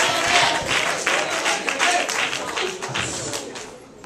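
A church congregation clapping together, a sustained wash of applause with scattered cheers throughout, fairly close and loud.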